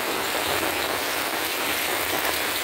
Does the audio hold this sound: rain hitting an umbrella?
yes